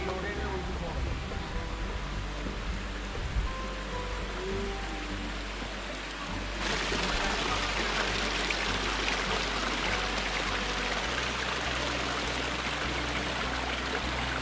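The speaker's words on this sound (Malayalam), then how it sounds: "ഇവിടെ വെള്ളം ഇങ്ങനെ ഒഴുകി പോണത് എന്താ പറയാ, പാറയുടെ മുകളിൽ കൂടി" Shallow water runs over rocks in a mossy stream, making a continuous rushing wash that swells louder midway and carries on steadily, with a voice at times.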